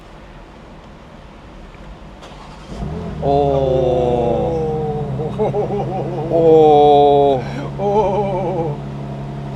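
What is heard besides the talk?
BMW M2 turbo six-cylinder engine starting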